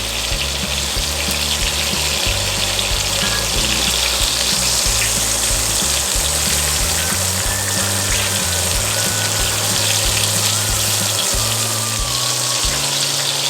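Ribeye steak and garlic searing in butter in a hot pan give a loud, steady sizzle and crackle that fills the whole stretch, close up and continuous with no talking.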